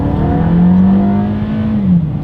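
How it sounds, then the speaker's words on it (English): A 2022 Toyota Camry in sport driving mode, front-wheel drive, accelerates hard from the center median, its engine note rising loud and steady from inside the cabin with no talking. "let's see how quickly we can get our new 2022 Toyota Camry here up to speed"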